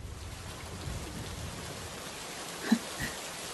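Steady, soft rain hisses throughout, with a low rumble underneath and a couple of brief louder knocks near the end.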